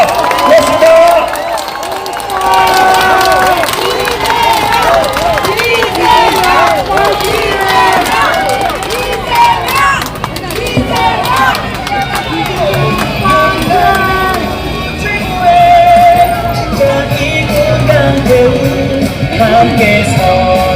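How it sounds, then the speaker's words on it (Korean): A large outdoor political rally crowd sends off Lee Jae-myung, cheering, shouting and clapping in a loud, continuous roar with voices mixed through it. "이재명 대표님께 다시 한번 뜨거운 박수로 환송해 주기 바랍니다"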